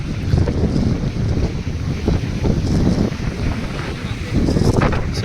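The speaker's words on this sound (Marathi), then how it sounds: "सो वारा एकदम जोरात सुटला." Strong wind gusting over a boat out at sea, heavy buffeting roar against the microphone with a rushing wash of water beneath, continuous and loud throughout.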